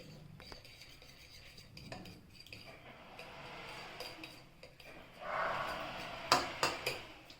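Eggs mixed with masalas in a bowl for an omelette, a soft scraping stir that grows busier, then a few clear clinks of utensil against the bowl near the end.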